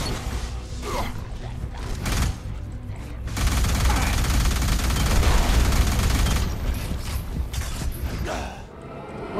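Sustained bursts of gunfire in the Alien Rage video game, with a loud continuous stretch in the middle and shorter volleys on either side, all heavy and close.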